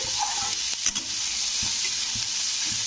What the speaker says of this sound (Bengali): তো এইভাবে প্রতিটা সবজি কিন্তু একটু নেড়ে দিতে হবে